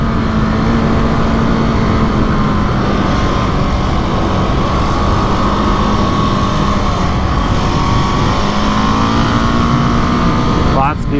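A KTM 701 Enduro motorcycle engine drones at high revs against its rev limiter while riding, loud and steady under heavy wind rush, the pitch holding flat and bouncing slightly near the end.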